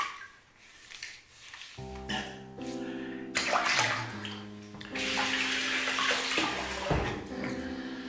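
A tap runs water to wet a pre-shave before a wet shave, a steady rush that grows fuller as the flow strengthens, with hollow tonal ringing from the basin.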